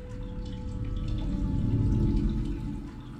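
Water flows steadily from a hole in a cave wall in a video game, a continuous, moderately quiet rushing wash that holds even for a few seconds, with no voices.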